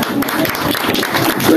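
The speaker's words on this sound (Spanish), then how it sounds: "Aquí el aplauso" At a family baptism ceremony, an audience claps together in a brief, dense burst of applause. Faint voices and other sounds mix in underneath.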